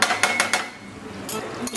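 A utensil stirs fried mixed vegetables in a cooking pan, with close metallic clinks and scrapes arriving in quick bunches and then a short lull.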